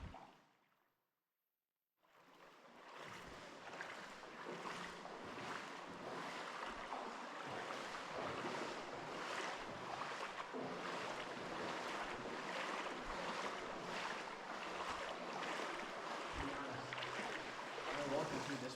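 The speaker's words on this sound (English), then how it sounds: "Walking through this part of the water" Continuous sloshing and splashing of legs wading through cold, sediment-stirred water inside the abandoned Winston railway tunnel, steady and close with a rushy, wind-like wash and no speech.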